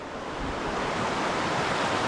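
A river current flows toward a waterfall on Lombok, a steady broadband rush of water that stays constant and fairly faint throughout, with no voices.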